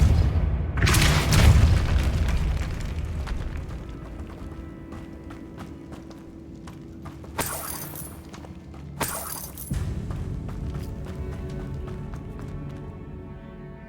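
A Depulso spell in the Hogwarts Legacy video game goes off as a loud, deep blast that rumbles and fades, followed later by a few sharper impacts and crashes.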